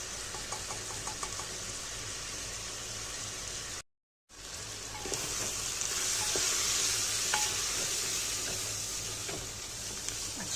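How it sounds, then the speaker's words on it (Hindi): Spices such as fennel powder and turmeric fry in a small amount of oil in a pan for a homemade tomato ketchup, giving a steady close sizzle with a brief silent gap near the middle. "अच्छी तरह से और फ्राई कर लेंगे"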